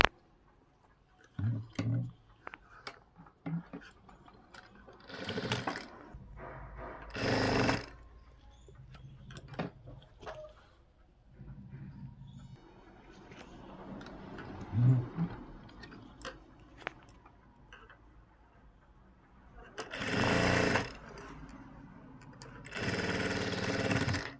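A sewing machine runs in short bursts and longer runs while stitching a blouse sleeve seam, its motor whirring up and down close by, with quiet handling noises and pauses between runs.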